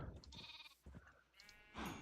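Sheep bleating in the video game Minecraft, several short nasal bleats close up, with brief gaps between calls and no voices.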